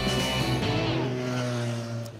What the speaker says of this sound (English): So that's the 302cc parallel twin that powers the motorcycle, liquid cooled, fuel injected and all of that.